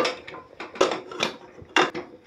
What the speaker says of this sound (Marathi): कुकरला लावायचं आहे झाकण